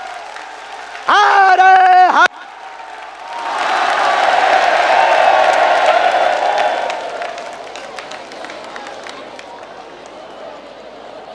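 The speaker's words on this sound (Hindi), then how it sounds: "पीछे तक हम सब जोरदार ताली बजा करके आपका" After a brief loud shout into the microphone, a big crowd at Bageshwar Dham bursts into strong, sustained applause welcoming PM Modi. The clapping rises loud and dense, then thins and fades toward a quieter murmur.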